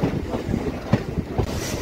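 A train rolls past on the opposite track beside a stopped local passenger train on the Vijayawada–Guntur line: a steady rumble with wind noise and a few sharp wheel clacks, fairly close.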